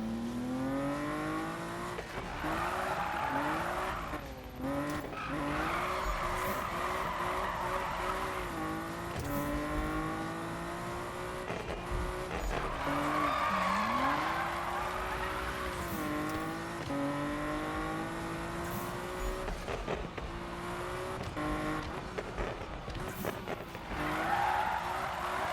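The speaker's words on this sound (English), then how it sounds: "Some of the cars do sound a bit off, but they still sound good." Cars race in the video game Need for Speed (2015), engines revving and rising in pitch through gear changes, with tires squealing and skidding throughout, loud and continuous with no talk.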